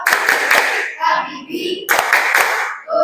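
A group claps out the rhythmic Tepuk Presiden game in a classroom, fast bursts of sharp synchronized claps separated by chanted voices, loud and near.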